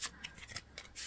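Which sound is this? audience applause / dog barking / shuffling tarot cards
shuffling tarot cards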